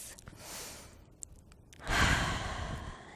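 Slow, deep breaths during a gentle standing yoga flow in a forward fold: a soft, airy exhale, a quiet pause, then a fuller, louder breath near the end.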